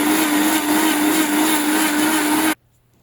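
A mixer grinder blends avocado with water into juice, giving a loud, steady motor whir that cuts off abruptly near the end and leaves near silence.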